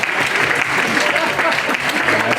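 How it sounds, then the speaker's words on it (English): Steady, dense applause from a wedding reception crowd honoring the maid of honor, filling the whole stretch at an even, loud level with no break. "Big round of applause for Kelsey Hayes, your maid of honor"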